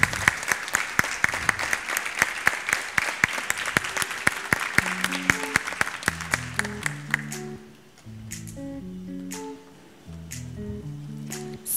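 An audience applauding a graduating kindergarten child at a graduation ceremony, dense steady clapping for several seconds that thins into scattered claps over a low hum of background music.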